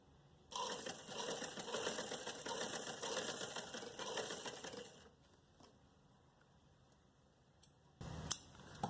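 A sewing machine stitches a trouser seam in a steady, close whir for about four and a half seconds, then stops, leaving near silence broken by a few faint clicks and a short handling noise at the end.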